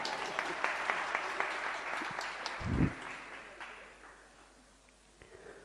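An audience at a religious discourse claps in a steady patter that swells briefly, then thins out and fades to scattered claps.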